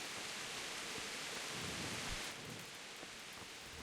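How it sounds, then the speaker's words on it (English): Steady rain pours down in the medieval world of Kingdom Come Deliverance, a dense, even hiss that fills the scene, easing slightly partway through, with no talk over it. "Look at the rain."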